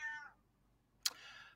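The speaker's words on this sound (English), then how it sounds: "I don't know if you can hear my cat." A house cat gives a short meow, a little faint and apart, after a quiet pause.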